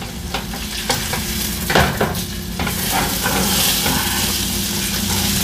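Bacon crackling and sizzling in a pot on a high stovetop burner, a steady loud frying hiss broken by a few scrapes and clinks of stirring utensils, close up.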